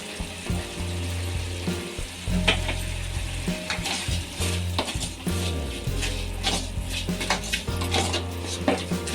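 Tomato gojju fries in a pan with a steady sizzle, punctuated by clanking of a metal spoon stirring and scraping against the cookware, close and continuous without talk.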